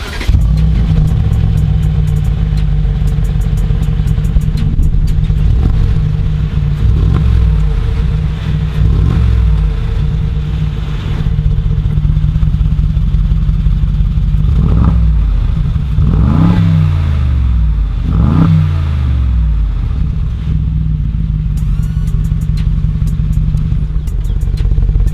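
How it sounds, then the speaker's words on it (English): Mercedes G63 Brabus Widestar with a 700 hp engine and Brabus valved exhaust, starting up and settling into a loud, close idle, with several deep throttle blips rising and falling over a steady rumble. "I'll start the car and then I'll show you what it sounds like"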